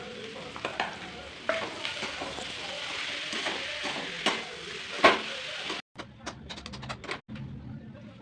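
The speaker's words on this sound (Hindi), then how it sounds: "इसको अच्छे से चला लेंगे।" Spiced potato mixture gets stirred in a hot frying pan, sizzling under the scrape and knock of a ladle against the metal, with a few sharper clatters toward the end.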